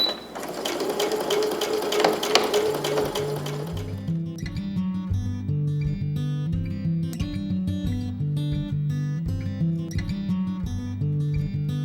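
A sewing machine stitches fabric strips onto headboard upholstery fabric, first a dense whir, then a steady rhythmic mechanical chatter of the needle running continuously up close, with no talk.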